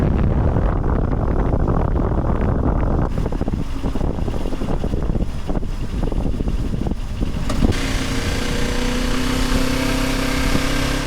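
A motorcycle engine runs steadily and loudly throughout, with wind buffeting the microphone and the engine note shifting partway through as the ride continues.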